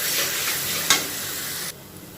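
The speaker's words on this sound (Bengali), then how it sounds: "এবার বেগুনটা মশলার সাথে ভালো করে মিশিয়ে নেব" Roasted eggplant is stirred into a spice mix in a hot pan, a dense frying sizzle with one sharp spatula scrape midway before the sound drops off abruptly near the end.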